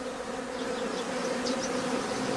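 Honeybees hum steadily around an open hive during an inspection, a close, continuous drone with no talk over it.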